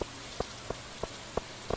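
Rain falling in the Stardew Valley video game, with a soft steady wash and six sharp, evenly spaced droplet-like taps about every third of a second, fairly faint with no voices.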